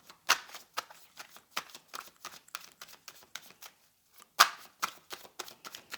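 Tarot cards are shuffled by hand in a quiet room, giving a series of soft, crisp riffles and taps in irregular bursts, with one louder flurry near the end.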